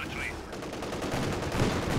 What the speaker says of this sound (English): Panzer II now opening fire.